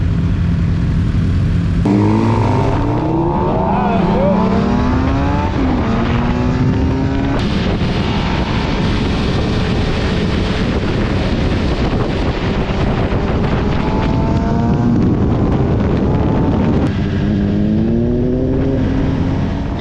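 Several go-karts run together on a kart track at The Ridge Motorsports, with engines revving up and down in rising and falling whines, loud and close under heavy wind buffeting.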